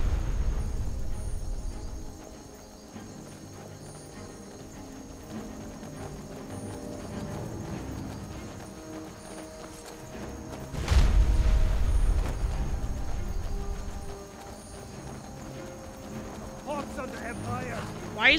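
Galloping horse hooves from the video game Skyrim during the Battle of Whiterun, a muffled, rolling rumble under low battle noise with a loud boom midway, fairly faint and distant.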